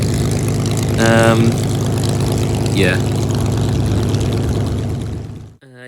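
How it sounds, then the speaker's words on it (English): A WW2 Spitfire fighter at an airshow starts its engine before takeoff, giving a loud, steady propeller drone with a rising pitch sweep. A voice speaks briefly, and the sound cuts off abruptly at the end. "That's one of the Spitfires starting its engine and about to take off."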